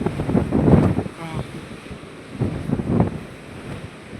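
Sea waves wash onto a shore at night in surging swells, with wind buffeting the microphone and faint voices now and then.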